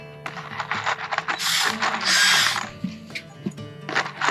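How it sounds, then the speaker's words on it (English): An impact driver whirs and rattles in short bursts with hammering ratchet clicks, rising into a loud, buzzing run as a screw drives in nearby during a cabin mud room build. "That's an actual drill. This is an impact."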